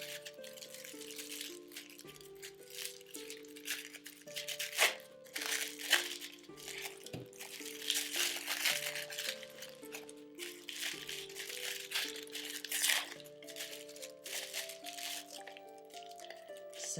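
Mint-colored gift paper crinkling and rustling as a jewelry subscription box is unwrapped, close and continuous in irregular crackling bursts over soft background music.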